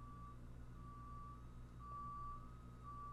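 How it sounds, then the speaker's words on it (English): A tow truck reversing sends out a repeating electronic beep, steady and fairly faint, over a low engine hum. "it was a tow truck."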